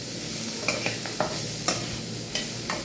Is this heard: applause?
no